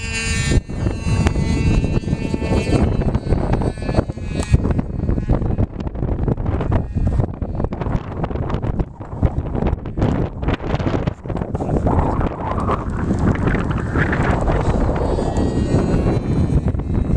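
Strong wind buffets the microphone in a constant loud roar, with gusty low rumble and no talking.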